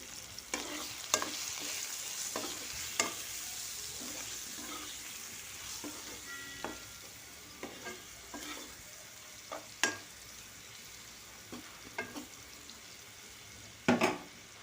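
Spices with turmeric, salt and chili powder sautéing in a pan make a steady sizzle, broken by repeated scraping and knocking strokes of a spatula stirring the mixture.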